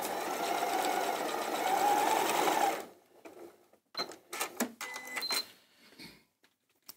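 A sewing machine stitches a strip of quilt fabric in a steady whirring run for about three seconds, then stops, followed by a few scattered clicks and light handling noises.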